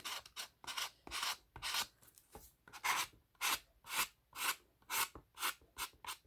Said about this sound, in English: my sanding block.